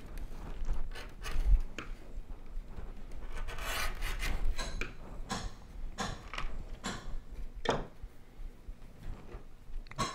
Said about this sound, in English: And then I use a heavier bevel, just use the knife on the little inside cut there, a heavier bevel on the inside to give it more rounded edge.